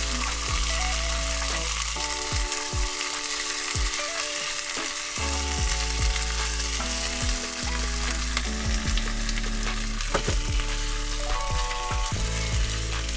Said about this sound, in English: So now is the perfect time to throw your beans in. Mix it up.